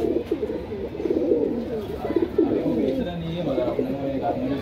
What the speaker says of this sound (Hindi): सब उड़े हुए कबूतर है।